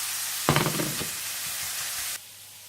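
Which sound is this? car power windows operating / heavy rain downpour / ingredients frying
ingredients frying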